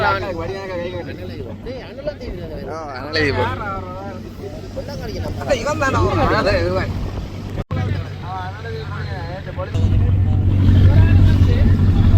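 A boat motor drones steadily beneath several people talking, with wind buffeting the microphone and the engine growing louder toward the end, on a boat heading to the Katchatheevu festival.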